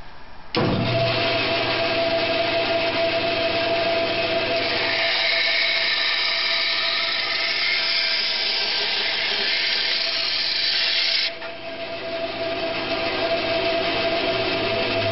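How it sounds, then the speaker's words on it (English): Butterfly dovetail keys being cut off a wooden board with a power saw, a loud sustained whining cut that starts abruptly, holds for about ten seconds, then drops to a lower run-down hum. "And then simply cut off as many dovetails as you need."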